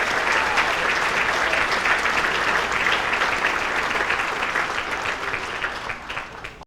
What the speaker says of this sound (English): A round of applause for Doug Lentz on his induction into the Woburn Hall of Fame